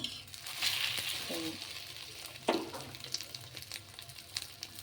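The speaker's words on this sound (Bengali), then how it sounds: "দু পিঠটা একটু ভালো করে ভেজে নিলে" A cheese omelette sizzles softly in a pan, a low, faint frying hiss broken by a few light clinks and scrapes of a utensil, with a brief murmur of voice.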